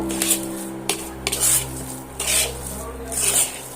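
Semolina mixed with ground turmeric is worked around a pan with a utensil, giving repeated scraping and clinking strokes in an uneven rhythm over a steady low hum, fairly close and moderately loud.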